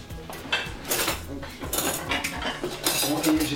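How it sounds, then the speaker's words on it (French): Metal cutlery clinking against plates and dishes as a table is set, with repeated close, sharp clatters in an irregular rhythm and no talk. "on va mettre le couvert. Du coup, là, les assiettes, les verres et les couverts."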